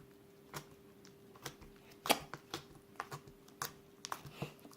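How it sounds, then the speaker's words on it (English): Small slime squeezed by hand, giving a series of soft, sharp clicks and pops at an irregular rhythm, close up and fairly quiet, with near silence between them. "So this slime is a smaller slime, so kind of harder to click."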